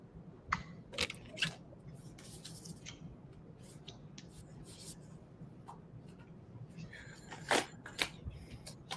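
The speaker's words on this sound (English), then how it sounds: "shuffle my decks again" Soft riffling and flicking of tarot cards being shuffled, with a few sharper snaps and taps over quiet room noise.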